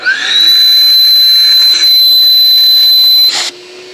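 A Metro Vac N Blow Pro 83BA vacuum runs alone with a steady, loud whine and airy hiss, holding constant for about three seconds before winding down to a quieter hum.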